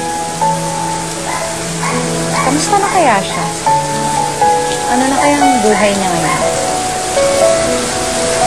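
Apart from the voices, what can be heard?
rain falling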